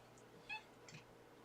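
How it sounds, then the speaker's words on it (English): A mother cat gives a couple of faint, short meows indoors near a locked door, followed by a sharp click at the end. "Mama Cat cries when the door is locked."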